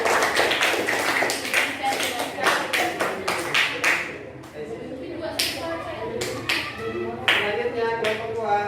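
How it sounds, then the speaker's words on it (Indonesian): A group of schoolchildren in a classroom claps for their classmates, brisk uneven clapping from many hands with children's voices chattering over and between the bursts. "oke, tepuk tangan untuk teman-teman."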